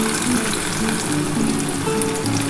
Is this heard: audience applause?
no